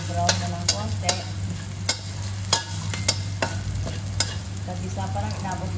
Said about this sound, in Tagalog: Kailangan mainit na mainit yung mantika niya pag nilagay niya yung bawang.